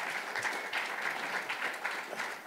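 Brief, modest applause from a conference audience at a tech talk, a soft patter of clapping from a smallish crowd heard at a distance that fades slightly toward the end.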